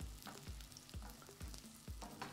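Onion frying in oil in a pan, with a low continuous sizzle and regular stirring thumps roughly every half second, quiet and close, no voices.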